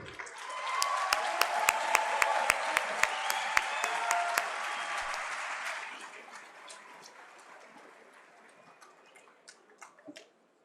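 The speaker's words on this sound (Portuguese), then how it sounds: "Para o aplauso de vocês, mais uma vez, Flávio Augusto, vencedor do Prêmio Libertas" Audience applause as a keynote speaker is called to the stage at a Prêmio Libertas awards event, a dense wash of clapping with sharp individual claps on top, fading to a few scattered claps by the end.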